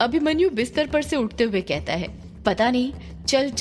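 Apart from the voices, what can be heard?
None of the usual background noises is heard.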